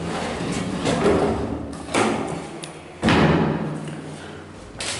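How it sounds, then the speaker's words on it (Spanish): Wooden cabinet doors in a furnished apartment open and close, giving several dull thumps and soft knocks spread over a few seconds against a constant noisy background. "gabinetes abriendo y cerrando suavemente"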